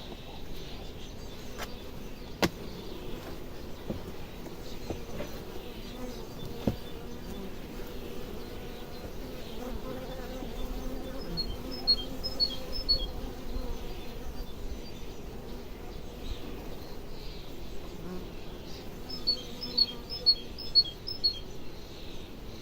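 Honey bees buzz steadily around beehive frames during a late-May swarm-control hive inspection, a soft continuous drone with faint bird chirps now and then.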